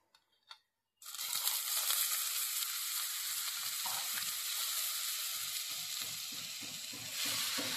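Ash gourd pieces hit hot oil with cumin seeds, bursting into a loud, steady sizzle after a second of near silence with a couple of small knocks; the frying stays close and continuous, with faint stirring scrapes toward the end.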